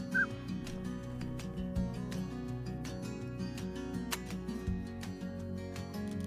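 Snow goose calls in the hunting game theHunter: Call of the Wild, steady honking bird calls repeating over a continuous ambient background, with no talk.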